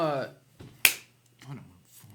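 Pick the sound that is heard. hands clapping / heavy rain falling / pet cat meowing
hands clapping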